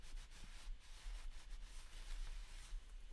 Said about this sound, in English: I'm going to get my cloth, I'm going to give it a really good burnish down